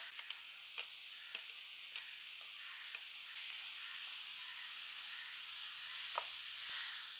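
Tomato sizzles in hot oil with ginger, garlic, green chili paste and curry leaves, a steady bright frying hiss with occasional soft stirring clicks and pops, growing slightly fuller midway.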